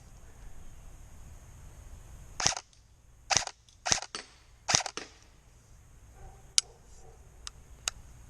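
Pop-up sights on an Arcturus NY-03 M4 airsoft rifle flip up with four sharp plastic-and-metal clicks in quick succession, close and crisp. A few fainter ticks follow.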